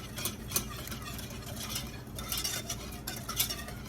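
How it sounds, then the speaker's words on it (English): A whisk stirs a butter mixture in a bowl for an apple dessert, giving a continuous scraping, clinking swish with faint metal taps against the bowl and no talking. "I'm just going to use a whisk"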